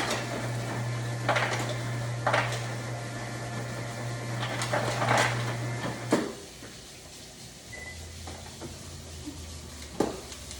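Cooking tools being rinsed at a kitchen sink: a steady stream of running water for several seconds, with a few clinks and knocks of utensils against the basin, then quieter handling sounds after the water stops.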